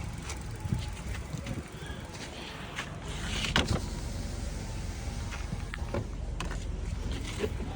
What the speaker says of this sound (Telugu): సో అన్ని పవర్ విండోస్ కూడా వర్క్ అవుతున్నాయి